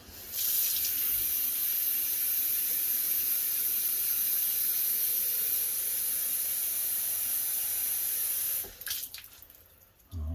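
Water runs hard from a tap into a homemade alcohol stove container, a bright steady hiss lasting about eight seconds before it cuts off abruptly, followed by a few brief clinks and splashes.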